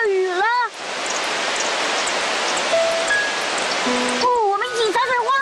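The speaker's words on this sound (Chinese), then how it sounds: "哦，下雨啦，沙沙沙，沙沙沙，沙沙沙" Steady rain hisses for about three and a half seconds as a sound effect in a children's show, with a bright voice speaking briefly before and after the downpour.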